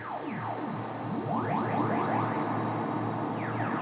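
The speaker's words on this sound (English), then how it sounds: "just letting a filter self-oscillate." A Nord Modular self-oscillating low-pass filter swept by a slow LFO whistles through repeated gliding rises and falls, several overlapping sweeps over a steady low drone, heard alone at moderate level.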